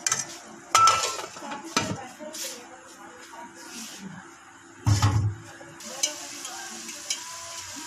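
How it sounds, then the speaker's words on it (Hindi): Tomatoes being stirred into light-brown frying onions in a pan while cooking arbi curry, with a few sharp spoon-on-pan clanks and scraping amid a soft sizzle, a voice speaking at times. "अब हम इसमें टमाटर शामिल कर देंगे।"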